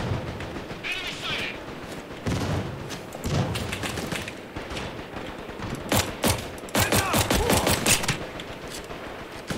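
Sniper rifle and other gunfire in a video game: sharp repeated cracks and thuds across a busy firefight, some near and some distant, with someone talking over the shooting.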